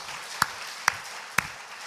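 A church congregation clapping at a revival service: three sharp, evenly spaced claps ring out over a soft, muffled room background.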